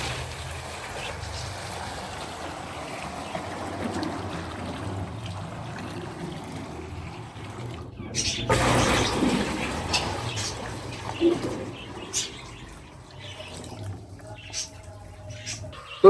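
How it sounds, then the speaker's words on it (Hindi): Water is poured into a large kadai wok in a home kitchen to cook macaroni, a steady close-up splashing and trickling that swells into a louder gush midway before tapering off, with no talking. "तो सबसे पहले हम मैक्रोनी बनाने के लिए इस कढ़ाई में पानी डालेंगे"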